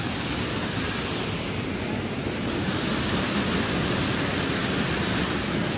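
A steady, loud roar of falling water, broadband and unbroken from start to finish with no voices.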